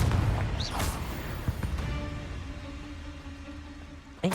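A Confringo blasting spell explodes in Hogwarts Legacy, a sharp loud burst at the start followed by rumbling booms and ringing decay, with another pop at the end.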